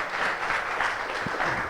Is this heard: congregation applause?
yes